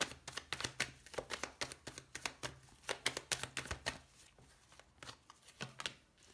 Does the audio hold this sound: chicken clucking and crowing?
no